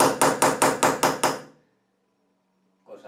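A steel punch struck by a hammer to mark drill holes in glazed bathroom tile: six sharp, loud metallic strikes in a steady quick rhythm, then silence, with a faint sound at the very end.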